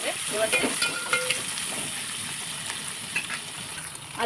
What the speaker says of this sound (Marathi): आता त्यामध्ये कांदा घालायचा आहे बारीक चिरलेला कांदा